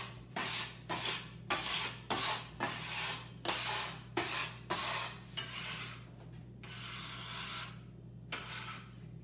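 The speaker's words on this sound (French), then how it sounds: "On va nettoyer la table." A table used for making fresh pasta is wiped clean with rapid rhythmic rubbing strokes, close and moderately loud, that slow into longer scrapes over a steady low hum.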